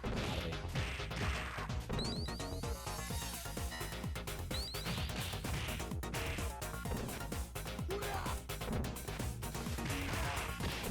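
Streets of Rage Remake combat with repeated sharp hit impacts and crashing thuds over a busy, loud backdrop of game music and effects.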